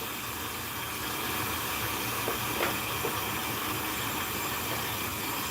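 Steam hisses steadily from a pot rigged to re-steam cooked crabs, a constant broad whoosh with a few faint clinks, no talking.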